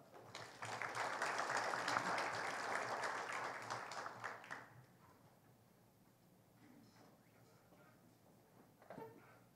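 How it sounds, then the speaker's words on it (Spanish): An auditorium audience at a legal talk claps to welcome a speaker, dense applause for about five seconds that then stops abruptly, leaving quiet room noise and a few faint knocks. "a quien recibimos con fuertes aplausos"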